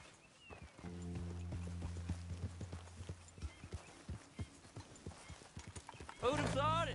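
Horse hooves clip-clop at a steady riding pace in Red Dead Redemption 2, close and rhythmic beneath a low droning tone, ending with a louder burst and a short whinny-like sound.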